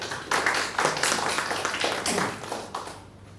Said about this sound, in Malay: Sila beri tepukan.